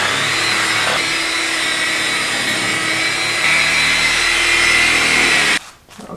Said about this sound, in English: It's also where I got this Warrior giant angle grinder polishing